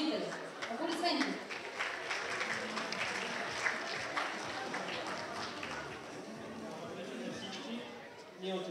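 Applause fills an award ceremony hall, a dense steady patter of many hands from a large audience with children's voices and chatter mixed faintly underneath, fading briefly near the end.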